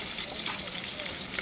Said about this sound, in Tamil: நான் பொரிச்செடுக்கிறேன்.